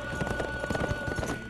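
Horse hooves clip-clop in a quick, rhythmic trot in the Warriors Orochi 4 video game, briefly heard over a steady game-music tone.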